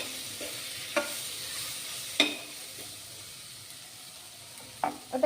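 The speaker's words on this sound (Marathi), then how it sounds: "मसाले यामध्ये टाकल्यानंतर आपल्याला व्यवस्थित हे परतून घ्यायचं आहे" Spiced vegetables sizzle softly and steadily in a pan for a Gudi Padwa vegetarian thali, with a few short scraping strokes of a stirring spoon breaking through.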